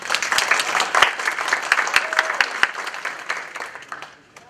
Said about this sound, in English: Please give another round of applause for James